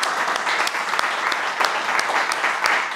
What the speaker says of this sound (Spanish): un fuerte aplauso para ella también